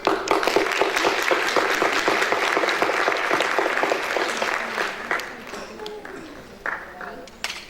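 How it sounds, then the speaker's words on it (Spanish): Audience applause at an international ethnobiology forum on jaguar culture, a dense crowd of clapping hands filling the room loudly before thinning and tapering toward the end. "Un aplauso."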